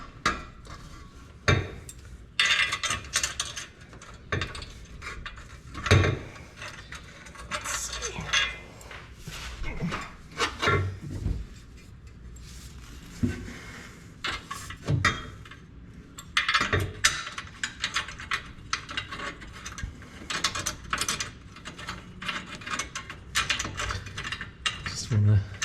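A ratchet tightening exhaust bolts back in while working under a car, rapid metallic clicking bursts repeated in irregular spells, with clanks of tools and occasional talk in between.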